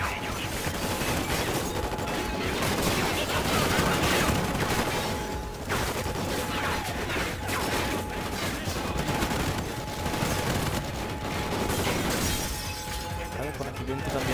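Rapid bursts of gunfire in Call of Duty: Ghosts on PS4 crackle almost nonstop, with mechanical clanks and shattering effects, loud and close, while a voice talks over it.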